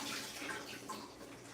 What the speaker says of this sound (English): I'm gonna give them a nice little rinse to these mushrooms.